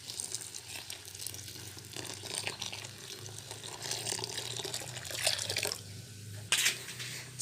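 About 2.5 liters of water poured into a fermented weed mixture for a plant-based insecticide, giving a steady splashing, trickling rush that swells and surges near the end, close by with no talking.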